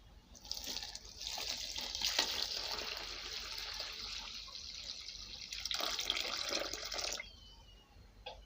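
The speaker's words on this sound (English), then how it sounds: "make a hole then add water" Water pours steadily into a bowl of chin chin flour mixture for several seconds, a close splashing stream that cuts off near the end, with no talk.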